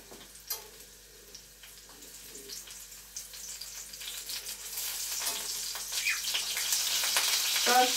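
Food fries in a pan with a soft, steady sizzle that slowly grows louder over several seconds, joined by a few faint clicks and stirring noises, heard up close without speech.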